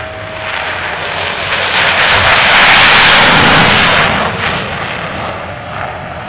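An F-16 fighter jet flying near the Red Sea gives a loud, continuous broadband roar that swells to a peak midway and then eases slightly, with no voices.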